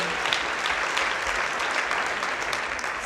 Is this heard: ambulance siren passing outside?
no